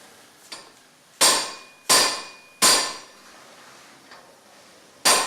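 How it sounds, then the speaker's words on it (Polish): Four sharp, dull thuds from a rubber mallet striking close by, on a Mercedes at a car rally in Toruń, spaced unevenly with a faint tap early on, each blow ringing briefly before fading. "Mamy nawet gumowy młotek"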